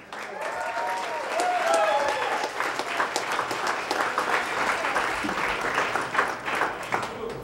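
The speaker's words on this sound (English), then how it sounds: "could you please give a round of applause for Gina Hiraizumi." An audience at a magazine premiere applauds for cover girl Gina Hiraizumi, dense sustained clapping that swells and holds strong for the whole stretch, with scattered whoops and voices mixed in.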